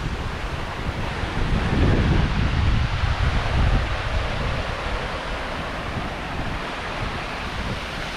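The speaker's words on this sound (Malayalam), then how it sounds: "അവരുടെ ആ വീടിൻ്റെ പുറകിൽ തന്നെ ഒരു വെള്ളച്ചാട്ടമാണ്, ചെറിയൊരു വെള്ളച്ചാട്ടം" A small waterfall right behind a house pours steadily, a loud, continuous broadband rush of falling water that swells briefly near the start and then holds even, with no voices over it.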